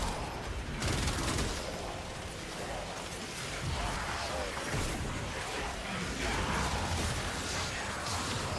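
Rapid video-game gunfire with a bit of recoil rattles steadily for several seconds as dense overlapping shots, loud and close, with no pauses.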